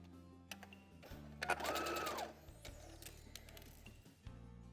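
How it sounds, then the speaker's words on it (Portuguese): A sewing machine stitches a straight seam in short runs, its rapid mechanical whirr rising and stopping with clicks and handling noises between bursts, close and clear. "E aqui vou fazer então essa costurinha reta."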